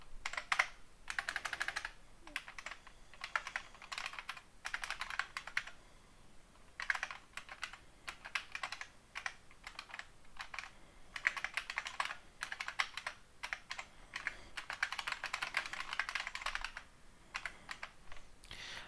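Steady computer keyboard typing while writing C++ code, bursts of quick keystrokes separated by brief pauses, close and fairly quiet, with no talking.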